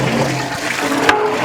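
Water poured into a large pot for cooking about 10 kilos of rice for a Ramadan dish, a loud continuous gushing splash close by.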